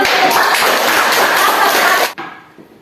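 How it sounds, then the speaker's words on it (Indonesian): A group of children claps together in a dense, sustained burst of applause that stops abruptly near the end, leaving a faint quiet tail. "Tepuk tangan."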